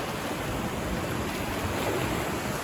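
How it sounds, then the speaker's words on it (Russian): Small, gentle waves wash along the Aktau shore on a nearly calm Caspian Sea, a soft steady surf hiss mixed with light wind noise, without voices. "Море почти спокойное, волна небольшая"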